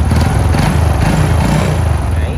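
A 2003 Honda Wave Alpha motorcycle idles smoothly up close, its engine putting out a loud, steady, even hum for the whole stretch, with no talking.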